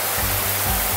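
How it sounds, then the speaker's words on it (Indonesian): A waterfall in Harau Valley roars as a steady, loud wash of falling water, close and continuous, with a few low thumps underneath. "ini ada air terjun"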